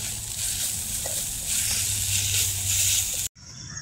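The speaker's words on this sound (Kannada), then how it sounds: "ಚೆನ್ನಾಗಿ ಫ್ರೈ ಆಗ್ತಾಯಿದೆ" Chicken liver with turmeric sizzles steadily in a pan, a continuous close frying hiss with faint stirring, broken by a brief pause near the end.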